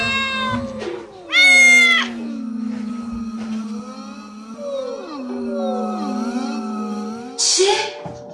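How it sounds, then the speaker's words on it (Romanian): A cat meows and caterwauls in a few drawn-out, wavering cries, with two loud close calls rising over sliding tonal sounds that continue steadily between them. "Mi s-a părut că trece un motan așa."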